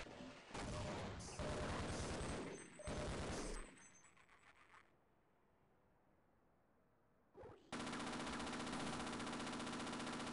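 Enemy gunfire in a Half-Life game: dense, loud bursts of rapid automatic shooting in several stretches, a quieter gap, then another sustained heavy burst, with no talk.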